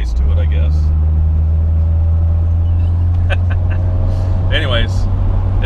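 A 1972 BMW 2002tii engine drones steadily as the car pulls away in second gear, a loud sustained low hum with faint voices and a brief squeak over it.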